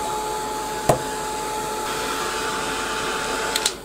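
A dryer dries pink paint on a junk journal page, a steady whirring hum running throughout with a couple of brief clicks, with no talk.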